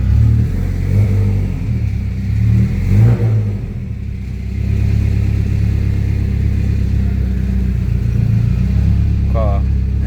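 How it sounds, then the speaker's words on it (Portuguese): A Subaru-engined Volkswagen Beetle is maneuvered, its engine loud and close in a steady rumble that rises and falls as it is revved. "Manobrar aqui o carro"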